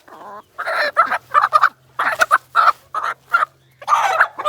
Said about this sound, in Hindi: ये जी वो वाला मुर्गा जो दाने दे रहा था